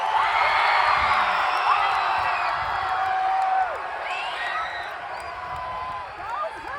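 A school assembly crowd cheers and whoops loudly, a dense wall of shouting voices with scattered high yells that eases slightly partway through.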